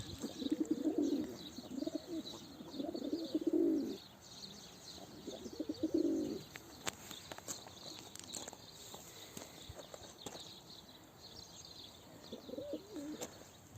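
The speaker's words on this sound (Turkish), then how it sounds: "Kuşları kapatıp biraz sonra bu kuşumuzu salacağım." Pigeons coo in a loft in low, throaty bursts, strongest in the first four seconds and returning twice later, with scattered clattering and shuffling noises between calls.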